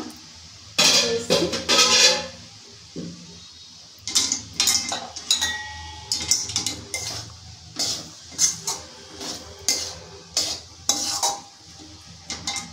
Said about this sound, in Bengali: এটা আমি ভালো করে মিশিয়ে নেব।